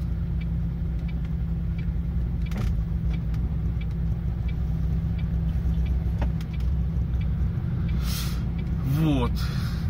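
A car driving along a road through a Swiss village, its engine a steady low hum throughout with occasional rattles, while people talk over it.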